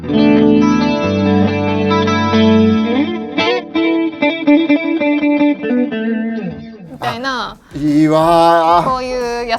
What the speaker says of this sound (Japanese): チャンネル1になってるのはクリーンの音で、だいたいこういうアルペジオ。